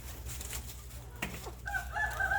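A Burmese rooster in a farm pen lets out a crow that rises near the end of a short moment, close and clear over a low steady background hum.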